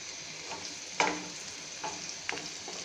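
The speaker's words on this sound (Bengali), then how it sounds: "আপনারা দেখতে পেলেন যে কীভাবে আলুটা আস্তে আস্তে ভাজা হয়ে উঠছে" Quiet, steady sizzling of potatoes frying in a pan, with a few soft scrapes and stirring clinks.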